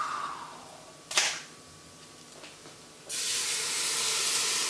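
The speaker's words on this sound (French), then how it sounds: "On va maintenant mouiller avec la bière." Guinness beer splashed into a hot saucepan with flour for an Irish vegetable stew, giving a sharp sizzle burst followed by a loud, sustained steaming hiss, with faint kitchen clatter before it.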